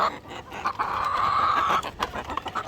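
Layer hens on a farm clucking and squawking during feeding with wet feed, one drawn-out call over a busy background of chatter and pecking, close and fairly loud.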